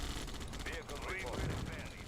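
Rapid bursts of Red Alert 2 gunfire crackle continuously, with someone talking excitedly in Thai over the shooting.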